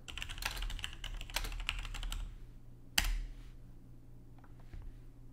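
Fingers type a git fetch command on a computer keyboard at a home server, a quick close run of clicking keystrokes for about two seconds, then a single louder key press, likely Enter, followed by near silence with faint clicks.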